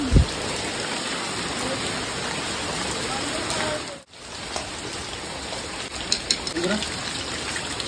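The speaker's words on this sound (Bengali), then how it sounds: "আমাদের এদিকে প্রচন্ড বৃষ্টি হচ্ছে" Heavy rain pours down in a steady, loud wash of broadband hiss, with a few sharp knocks and splashes scattered through it.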